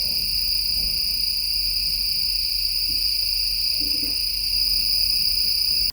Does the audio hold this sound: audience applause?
no